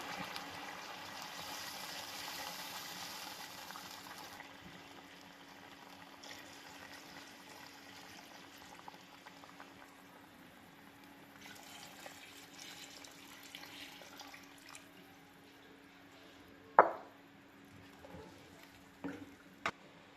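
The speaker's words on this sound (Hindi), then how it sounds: "अब हम लोग डालने लगे हैं जी यखनी अपनी" Chicken yakhni stock being poured into rice for dawat-style chicken pulao, a steady broadband liquid gush running for much of the stretch, with a few sharp clinks from a utensil near the end and no talk.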